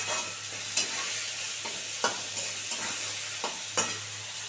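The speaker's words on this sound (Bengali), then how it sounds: "এবার এটাকে খুব সুন্দর করে ভাজবো।" Chopped vegetables for homemade chow mein, with a little salt added, stir-fry in a pan: a steady close sizzle broken by repeated scraping strokes of the spatula, no talking.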